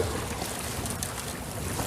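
Choppy Lake Tahoe water slaps and washes steadily against a fishing kayak running sideways to the waves, a continuous close splashing hiss mixed with wind buffeting the microphone, with no voices.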